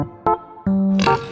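A farm pig oinks a few times, close and loud: a short grunt, then two longer, tonal, almost cartoonish squeals with clean gaps between them.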